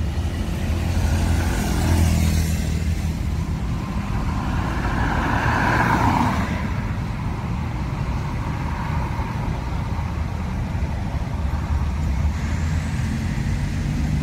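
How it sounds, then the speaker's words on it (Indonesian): Steady, loud road traffic on Jalan Soekarno-Hatta, with cars, trucks and buses rumbling past nearby in a continuous low drone and occasional swells as heavy vehicles pass. "lalu lintas di Jalan Soekarno-Hatta"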